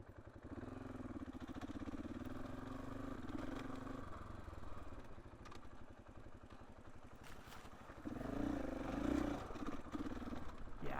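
A KTM 450 EXC-F dirt bike rides along a forest trail, its single-cylinder engine running steadily close by with clattering chassis noise, then swelling louder as the throttle opens near the end.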